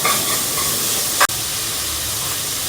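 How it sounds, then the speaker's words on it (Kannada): Onions frying in a pan, a steady close sizzle with a brief louder stirring scrape partway through, continuous and without speech. "ಇದು ಆನಿಯನ್ಸು ಸ್ವಲ್ಪ ಕಲರ್ ಚೇಂಜ್ ಆಗೋವರೆಗೂ ಫ್ರೈ ಮಾಡ್ತೀವಿ"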